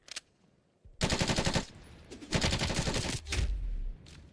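Bursts of automatic gunfire from a gun in Black Ops Cold War: two rapid, rattling volleys, close and loud, followed by a heavier blast and a trailing boom over quiet game background.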